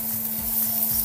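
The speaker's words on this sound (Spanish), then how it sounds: "Vamos a iniciar sofriendo el ajo." Garlic frying in hot olive oil in a pan, a steady close crackling sizzle with soft stirring scrapes, no talking.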